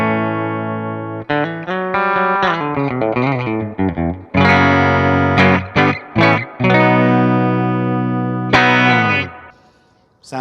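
Epiphone electric guitar on its bridge P90 pickup with a clean tone, played as a busy phrase of single notes and ringing chords that is close and loud, with a few short pauses near the end.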